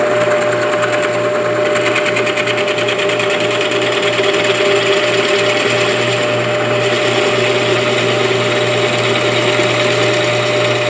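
A drill press cuts a compound mortise into a low paddle-back chair piece, its motor giving a steady, close whine with a buzzing hum that runs unbroken throughout.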